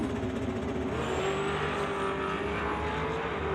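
Drag racing cars roaring loud and steady on the start line while building boost before a Limited Street race, with a rising whine over the engine drone.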